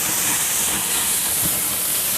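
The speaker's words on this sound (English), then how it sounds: "I want to sear my tenderloin on all sides" A tenderloin sears on a grill at 500 degrees, giving a loud, steady, close-up sizzle that holds without a break.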